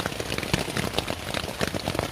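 Heavy rain drums on a tent pitched in deep woods, a dense, close, continuous patter with scattered louder drop hits and no voices.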